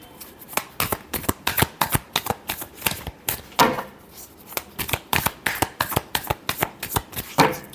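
Tarot cards are shuffled by hand in a quick series of crisp riffles and soft slaps, close and rhythmic, with no talk.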